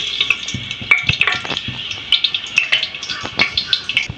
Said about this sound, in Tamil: இப்போ வந்து இலை, சோம்பு, கசகசா, பட்டை இதெல்லாம் நம்ம போட்டுடலாம்.